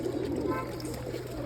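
Pigeons coo softly nearby while they are fed gathiya snacks at home. The low cooing stays quiet and steady against faint background sound.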